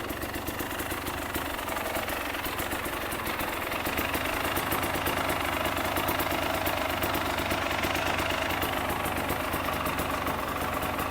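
A KTM two-stroke motorcycle engine fitted with an extra fan runs steadily nearby, a continuous buzzing drone with a faint rattle that holds at one level for about eleven seconds, with no talk.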